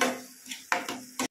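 Egg masala is stirred in a pan after coriander powder and garam masala go in, giving a handful of short, close scrapes and clinks from a spoon against the pan, spaced unevenly and fairly faint.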